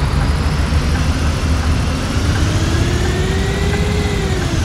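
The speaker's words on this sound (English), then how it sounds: "bus sounds are a lot different when you are in the NVT car" Steady mid-pitched bus engine idle from Bus Simulator 18, a continuous low rumble with a faint rising whine, heard alone at constant loudness.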